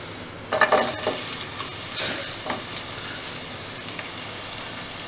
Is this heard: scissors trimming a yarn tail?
no